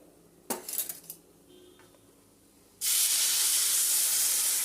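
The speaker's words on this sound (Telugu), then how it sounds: "ఇంకో గ్లాస్ కూడా వేసేసుకున్నామండి" Water poured into hot semolina (suji) halwa in a pan: a brief clatter of utensils, then a sudden loud, steady hiss of steam that continues to the end.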